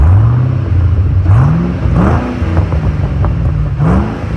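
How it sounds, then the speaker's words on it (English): A supercharged 415 hp 2007 Stage 3 Roush Mustang with free-flowing mufflers revs hard and close. The engine and exhaust repeatedly climb in pitch with a whining supercharger, then drop back between several throttle pulls. "I don't know, I kind of like a lot of engine noise. I like hearing the supercharger."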